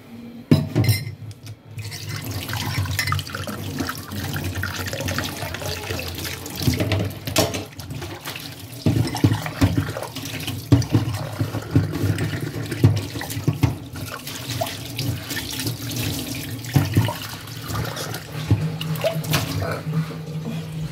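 Breakfast dishes washed under a running tap, with a steady splash of water and clinks of dishes and glass, continuous throughout, with voices now and then.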